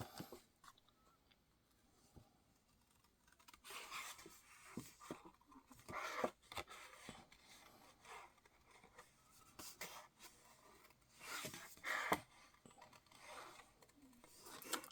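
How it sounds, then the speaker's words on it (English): Scissors fussy cutting paper in a quiet craft setting, with soft, irregular snips and light paper rustling, plus a few slightly sharper cuts near the middle and end. "And now we're going to fussy cut."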